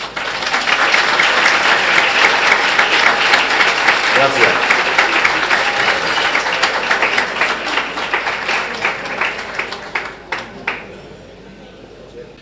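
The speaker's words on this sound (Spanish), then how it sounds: "pedir un fuerte aplauso por y para Rocío Jurado" A book-launch audience gives a strong round of applause for Rocío Jurado, dense sustained clapping that gradually thins and fades toward the end, with a brief spoken thanks near the close.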